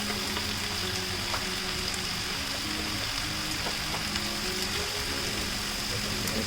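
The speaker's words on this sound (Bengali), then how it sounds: "আদা রসুন পেস্টটা আমি আরেকটু ভেজে নিব" Ginger garlic paste frying in a pan while cooking tawa chicken gives a steady, even sizzle and hiss that holds close and constant throughout.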